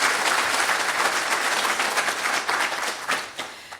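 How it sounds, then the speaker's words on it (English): A live podcast audience at a Tolkien event breaks into steady applause, dense hand-clapping throughout before it tapers off at the very end. "Cue applause."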